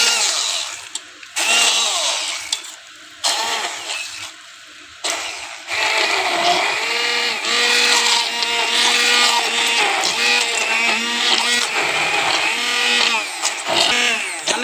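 A hand beater whirs as it grinds onions with water in a container for a wedding-style chicken korma, starting in short bursts and then running in a loud steady whine with shifting pitch.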